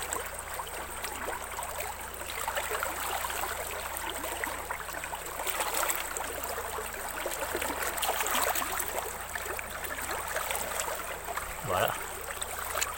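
A flowing stream at its lower end, where gem stones are being searched for, gives a continuous loud rushing and gurgling of water throughout, with a brief low thump near the end and no talking.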